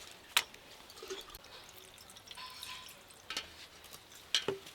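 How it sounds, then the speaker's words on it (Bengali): A child dabbles a hand in water in a home kitchen, making a few faint, sharp splashes and drips spaced seconds apart over quiet room tone. "জল ঘাটা হচ্ছে"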